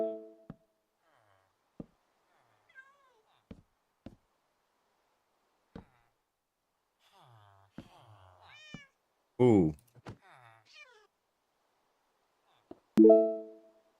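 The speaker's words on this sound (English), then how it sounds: "cat's gotta go." A cat meows in Minecraft, several short synthetic mews spaced apart amid sparse game clicks, with someone talking briefly in between and a louder meow near the end.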